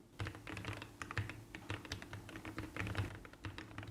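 Steady, fast clacking of keys on a SIKAKEYB SK3 65% compact mechanical keyboard, busy and close, with irregular taps and a few heavier strokes, no voices.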